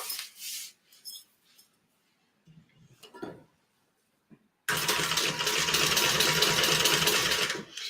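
A sewing machine top stitches through cork fabric, running in one steady, loud, close burst after some faint handling sounds and rustling.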